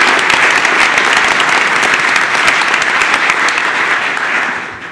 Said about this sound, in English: Let's give one more round of applause for our valedictorian, salutatorian, and distinguished teacher from Klein Forest.